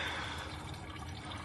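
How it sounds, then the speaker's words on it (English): Coolant drains from a Subaru WRX STI engine, a faint steady splashing trickle of liquid pouring continuously for a moment with no talk. "Yeah, coolant is draining."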